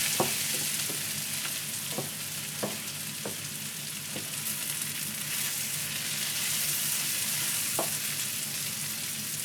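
Yaki udon with pork fries in a pan, giving a steady loud sizzle that runs throughout, with scattered sharp clicks and scrapes of stirring.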